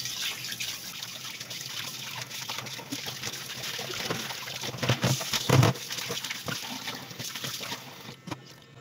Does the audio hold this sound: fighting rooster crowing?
no